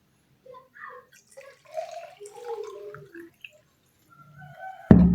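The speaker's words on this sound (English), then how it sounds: "I'm going to use this empty container and put in my vinegar." Vinegar poured into an empty container gives a gurgling, trickling pour with shifting tone lasting a few seconds, close by and moderately quiet, ending in a sudden loud knock as the container is set down.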